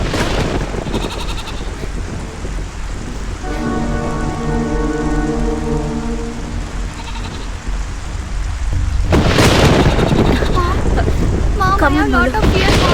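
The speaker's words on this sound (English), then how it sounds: "I told you that rain is heavily coming." Heavy rain pours down steadily in a dense, loud wash, joined by a sustained tonal drone in the middle and a louder surge near the end.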